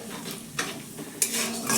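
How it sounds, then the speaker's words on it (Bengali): Whole cumin seeds drop into hot mustard oil in a pan, giving a soft sizzle with a few light metallic clinks of a spoon against the pan, fairly quiet and close, with no talking. "এবার দিয়ে দিচ্ছি 1/2 চা চামচ গোটা জিরে"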